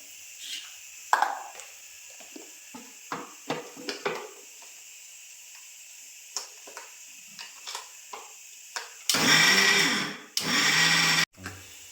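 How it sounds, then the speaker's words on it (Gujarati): A mixer grinder whirs loudly through two bursts, grinding green chillies, garlic cloves and ginger into chutney, with a short pause between runs, following several small clicks and knocks of the jar being loaded and set in place. "હવે આપણે આને પીસી નાખશું મિક્સરમાં"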